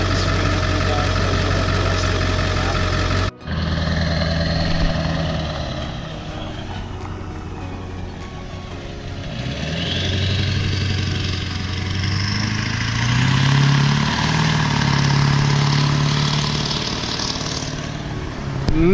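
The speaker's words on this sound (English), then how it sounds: "Man, that truck sounds so much better." A truck engine idles steadily with a deep low rumble, loud and close, broken briefly by a sharp cutoff near the start, then a continuous drone with shifting tones.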